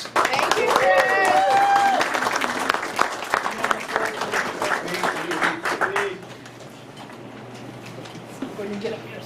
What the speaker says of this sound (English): let's have an applause for Chris